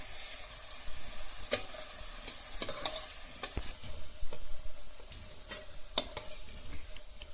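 Kothimbir vadi, coriander fritters, fry in oil on a pan with a close, steady crackling sizzle, punctuated by sharp clicks and scrapes of stirring and turning them.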